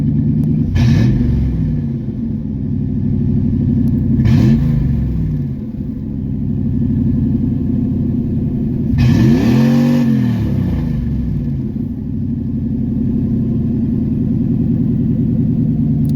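A third-generation Camaro or Firebird engine idles with a steady low rumble, then revs to about 2000 rpm three times in short bursts before settling back to idle.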